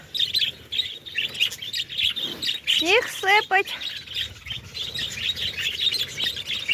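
Pet parrots chirp and tweet continuously outdoors in the snow, a busy flock of close, bright calls with a few louder sweeping squawks near the middle, while someone speaks briefly over them.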